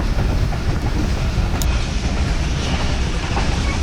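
A passenger train running across Pakistan, heard from inside the last compartment as a loud, steady rumble of wheels and wind with a faint rhythmic clatter and no talk.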